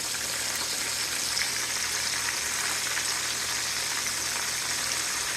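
Deer steaks fry in oil in a pan, giving a steady, dense sizzle and crackle that holds evenly without pause, close and moderately loud, with no voices.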